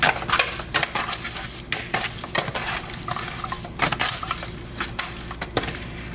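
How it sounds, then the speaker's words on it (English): Catfish ingredients are mixed together with buttermilk in a bowl, giving close, busy stirring and scraping with repeated utensil clacks in an uneven rhythm and a soft wet squelch underneath. "Then we just gonna mix it all up."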